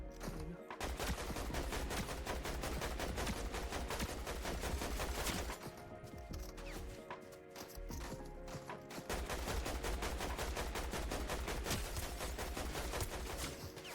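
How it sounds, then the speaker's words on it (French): Rapid bursts of automatic gunfire crackle almost without pause in a Fortnite match, dense volleys broken by a short lull midway before the shooting resumes at full intensity. "Ça tire là-bas."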